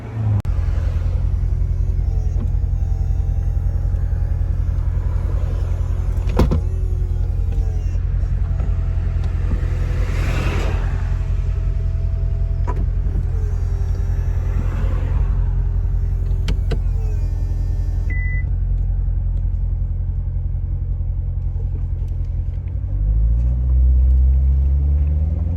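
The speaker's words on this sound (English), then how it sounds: "Here we are cruising in the Vette." A 2017 Chevrolet Corvette Stingray C7 convertible with a 6.2 V8 cruises on the street, giving a steady low engine rumble with gentle rises in pitch as it shifts, and a brief mechanical whir near the end.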